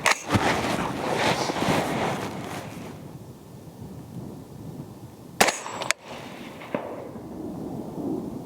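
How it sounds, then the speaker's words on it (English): A few sharp, loud bangs from a PSA M110-A1 .308 rifle firing a three-shot group stand out over gusty wind noise, with quieter stretches between them. "we will shoot another 3-shot group"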